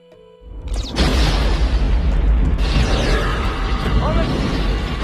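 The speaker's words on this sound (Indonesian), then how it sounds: "Satu demi satu bom dinyalakan." Bombs going off one after another in a disaster film about a volcano erupting in a city: a sudden loud blast after a brief quiet start, then a sustained heavy rumbling roar that continues to the end.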